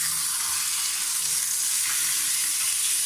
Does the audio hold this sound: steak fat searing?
yes